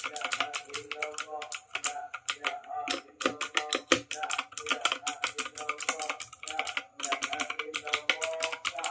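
Fast, steady typing on a Zifriend T62 mechanical keyboard with blue switches, producing crisp, loud clicky keystrokes in quick irregular rhythm, with brief pauses between bursts.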